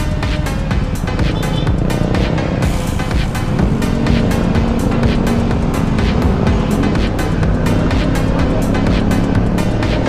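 A Yamaha Aerox scooter engine drones continuously on a ride, loud and close with heavy wind buffeting and road roar, its pitch shifting slightly as the throttle changes.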